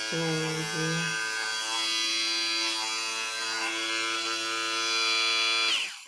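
A Deerma DEM-MQ600 electric lint remover runs with a steady, close, high-pitched motor buzz that holds evenly for about six seconds, then winds down abruptly at the end.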